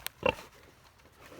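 A breeder pig gives a single short, low grunt up close, preceded by a brief click, then quiet pen ambience.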